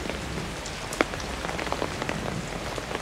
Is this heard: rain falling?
yes